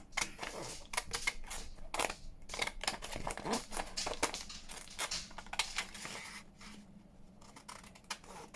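Scissors snip steadily around a handmade journal card with hidden ephemera pockets, a close run of quick, crisp cuts and paper rustles with brief pauses, no talking.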